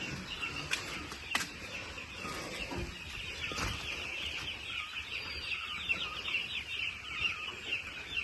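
Chicks cluck and cheep continuously nearby, soft chirps layered over a steady background hum, with occasional sharp knocks.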